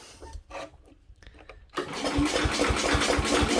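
A Sears Suburban 12 garden tractor engine cranks, then fires and catches, settling into a loud, steady running chug with a regular low thump.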